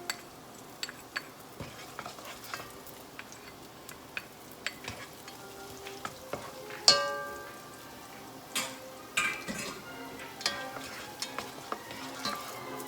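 Ginger frying in olive oil in a pan, a soft steady sizzle broken by occasional utensil clicks and a louder scrape or clatter, close and moderately quiet with no talk.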